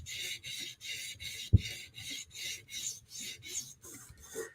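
Rhythmic rasping strokes of a knife blade drawn across a sharpening stone, a final pass on one side to reduce the burr, about nine steady even passes close up with one sharp knock partway through.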